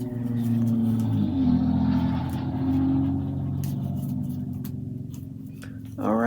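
A noisy car passes outside, its engine a loud steady rumble that rises and fades over several seconds, heard from indoors with faint ticking in the room.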